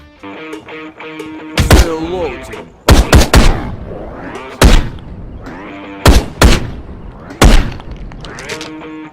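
Loud gunshots in the Ride To Hell video game, five or six heavy bursts of single and double shots spaced a second or so apart, with game music and a voice talking between them.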